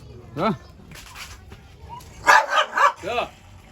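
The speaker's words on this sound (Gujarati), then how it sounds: "આ મારો પાળેલો કૂતરો છે" A dog barks and yips several times, short sharp calls close by, with people talking around them.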